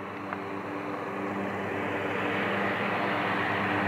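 Small electric E-flite mini Ultra Stick RC airplane approaching to land, a steady buzzing motor whine that holds fairly loud and close throughout without speech.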